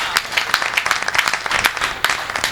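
Audience clapping and cheering at a Hindi comic poetry gathering, a dense steady patter of many hands with brief peaks and no clear speech.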